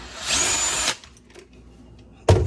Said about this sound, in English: Unscrew that green screw.